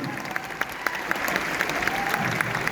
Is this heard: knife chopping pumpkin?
no